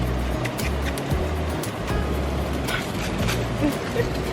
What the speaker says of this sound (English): You'll have to excuse the sound of the river in the background